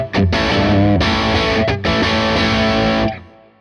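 Electric guitar reamped through a guitar amp, giving thick, distorted sustained chords with two brief breaks before ringing out, loud and close.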